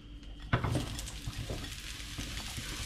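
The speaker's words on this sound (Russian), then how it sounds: "Мясо у нас обжарено." Oxtail meat fries in a pan with a steady sizzle, broken by a sharp clatter of a utensil against the pan and a few lighter scrapes as it is stirred.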